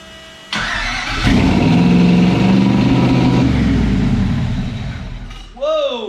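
A custom-built car's engine fires up on first start-up, loud even through mufflers: a cranking onset, then a sustained heavy idle close by, with voices briefly heard near the end.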